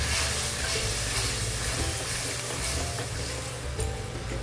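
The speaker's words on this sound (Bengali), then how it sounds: "এবার মশলাটা ভালো করে আমি কষিয়ে নেবো" Masala paste for a masala egg curry sizzles and fries in a pan as it is stirred, a steady close hiss running throughout with a few brief scraping accents.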